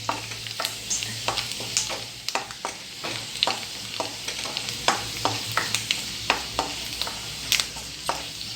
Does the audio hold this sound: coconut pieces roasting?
yes